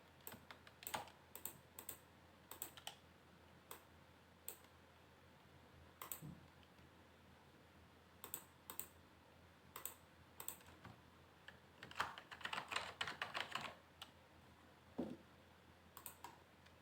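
Typing on a computer keyboard: quiet, close key clicks tapped in an uneven rhythm with short pauses, including a dense flurry of keystrokes near the end, over a faint steady hum.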